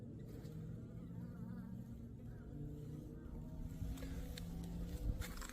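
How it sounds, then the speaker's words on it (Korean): Honeybees hum outside a hive in cold weather near 2°C, a steady low buzz of wingbeats with a few sharper clicks and rustles toward the end, no voices. "오랜만에 들어보는 꿀벌 날개짓 소리"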